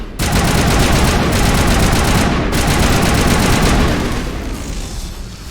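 Sustained automatic gunfire in the video game Mass Effect 1, a dense loud rattle of rapid shots with heavy booms running for several seconds before easing slightly at the end.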